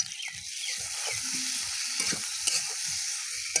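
Tomatoes frying with spiced potatoes in a pan, stirred by hand: a soft continuous sizzle under repeated scraping and clattering strokes, close and moderately loud.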